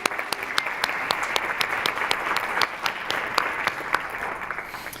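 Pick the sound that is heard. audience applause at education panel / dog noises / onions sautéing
audience applause at education panel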